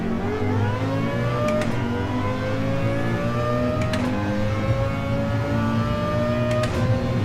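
An AMG race car engine in Gran Turismo 7 revs hard in a continuous high whine, with pitch climbing steadily and three quick gear shifts, loud and alone.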